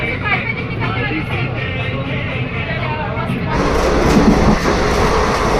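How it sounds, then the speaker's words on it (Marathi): Passenger train pulling into Pulgaon station, heard from inside a carriage: a steady rumble and rattle of the coach throughout, growing slightly louder and rougher midway, with background chatter of passengers. "ट्रेनमध्ये बसलो आहे आणि आता पुलगावचं स्टेशन आलं आहे"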